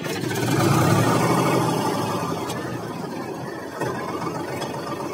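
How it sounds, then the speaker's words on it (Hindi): A tractor engine runs steadily after starting, a loud, close, continuous diesel rumble that swells in the first second and then holds an even idle, with no talking. "हमारा ट्रैक्टर स्टार्ट हो गया है"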